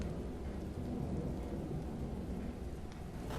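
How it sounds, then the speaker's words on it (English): A thunderstorm with steady heavy rain and wind, a dense continuous roar with low rumbling throughout, close and enveloping, no voices. "I could also perceive the first drops of rain falling"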